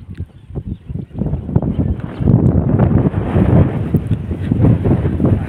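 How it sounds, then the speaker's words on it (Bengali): Wind gusts buffet the microphone outdoors beside rice fields and stacked straw, a loud continuous rushing that strengthens midway. "হাওয়াও মাশাআল্লাহ খুব সুন্দর হচ্ছে।"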